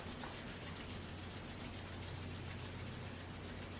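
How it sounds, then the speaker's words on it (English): Palms rubbing briskly together to build heat during a yoga session for neck and shoulder relief, giving a steady, soft, continuous friction hiss close by, with no talking. "Starting to rub our hands together,"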